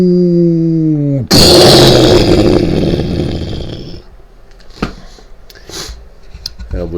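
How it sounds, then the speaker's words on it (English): Sound effect of a UFO crashing to the ground: a falling warbling synth tone, then a sudden loud roaring impact that decays into scattered rumbles and crackles. "That was the sound of an unidentified flying object crashing to the ground and being lost."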